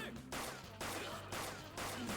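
Bursts of gunfire in Persona 5 Royal, three loud rapid volleys separated by brief pauses, with game music beneath.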